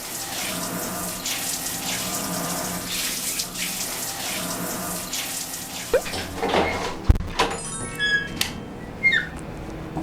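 Water runs steadily from a home shower tap, a soft continuous splash that fades out partway, followed by a few squeaks and clicks, with no talking.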